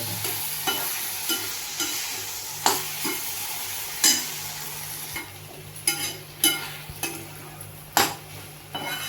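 Okra frying over a low gas flame in a covered pan with a chili and garlic paste: a steady sizzle runs throughout, broken by repeated scraping clinks of a stirring spoon.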